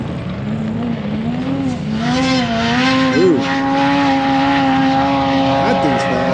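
A dune racing car, a Boondocker build, roars past fast on the sand dunes at St. Anthony's, its engine note rising and sliding steadily over several seconds with a loud, continuous whine.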